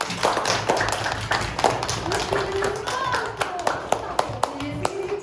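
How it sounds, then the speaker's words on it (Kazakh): Schoolchildren clap their hands during a classroom hour, producing a run of close, sharp, ragged claps with a few louder strikes, while a voice speaks faintly underneath. "қане балалар, қол шапалақтап қояйық"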